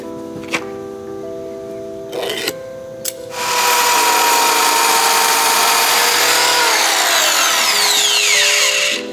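A power tool drives screws into a car's bodywork, starting with a few short clicks and taps, then one long, loud whirring drive that holds steady for several seconds and tapers at the end.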